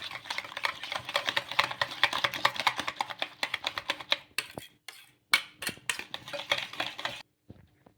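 Egg paratha filling with garlic being stirred in a bowl, a quick, steady run of light clinking and scraping taps from a spoon against the bowl, close and alone, ending in a few scattered strokes.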